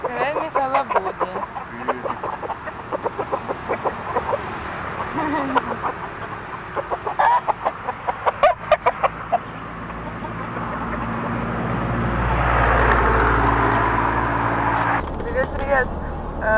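Chickens cluck and a rooster calls nearby at Thai chicken coops while people talk, then a car engine swells as it passes.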